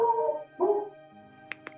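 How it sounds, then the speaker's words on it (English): A pet dog barks twice at the close of an online group meeting, two short yips near the microphone after people finish saying goodbye. "And the dog said goodbye too."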